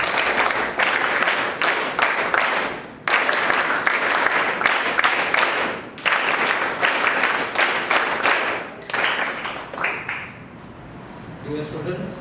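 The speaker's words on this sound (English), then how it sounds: "You all can welcome sir with a big round of applause." School audience at an educational programme in Mumbai clapping to welcome a speaker, loud applause in several bursts with brief gaps, fading out near the end as a voice begins.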